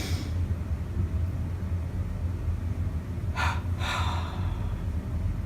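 Deep breathing during a calming meditation exercise, a low steady background with two short airy breath sounds near the end, close and soft with no talk.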